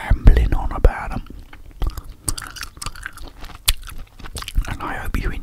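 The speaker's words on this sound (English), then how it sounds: "I hope you enjoyed the gum chewing" Gum being chewed close to the microphone, with soft wet clicks and smacks scattered unevenly across the clip over a low murmur, in a relaxed setting alongside casual rambling talk about martial arts movies.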